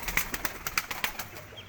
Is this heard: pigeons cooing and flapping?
yes